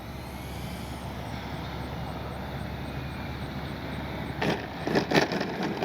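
An FMS radio-controlled model airplane flying overhead, its electric motor giving a steady high whine over a broad rushing drone, with a few louder gusty bursts near the end.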